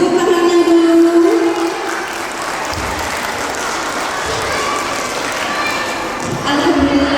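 Audience applause for the students at a kindergarten performance day, a steady dense clapping wash lasting several seconds at fairly loud level, with a voice and some crowd noise mixed in.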